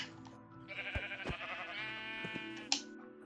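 A Minecraft sheep bleats in a drawn-out, wavering call over a steady low background, with a few soft clicks and a sharp tap near the end.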